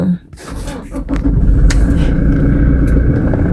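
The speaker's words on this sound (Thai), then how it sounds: "เดี๋ยวลองสตาร์เครื่องยนต์ให้ดูนะคะ" A used Toyota Fortuner 2.4V diesel engine cranks and catches with a short thump, then settles into a loud, steady rumbling idle heard from close by.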